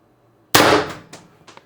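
An X-68 CO2 launcher running 850 psi cold CO2 fires a 9.9 gram riot ball: one loud, sharp report, close by, with a brief ringing decay and a few small mechanical clicks after it.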